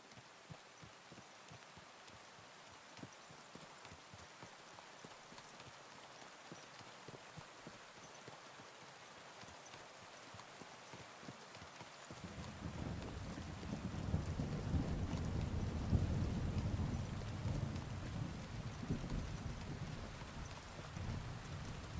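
Rain and thunder in a video game set in woods, with steady patter throughout and a deep rolling thunder swell arriving midway and lingering, heard alone without talk.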